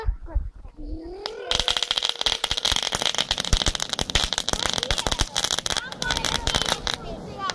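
Dense, continuous crackling and popping of New Year's fireworks close by, with a rising whistle at the start followed by rapid bursts of firecracker crackle that persist to the end, and children's voices faintly underneath.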